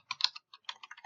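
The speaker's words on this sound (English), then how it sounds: "I'm going to type in" Fingers type a short burst on a computer keyboard, a quick cluster of crisp close key taps, a brief pause, then a second run of taps, with no voice.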